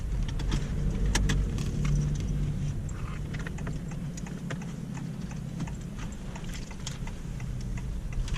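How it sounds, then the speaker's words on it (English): A 2022 Honda Civic RS on the road in Manila, heard from inside as a steady low engine and road drone with light ticking and clicking cabin noises throughout. "Alright guys, let's take this car for a drive."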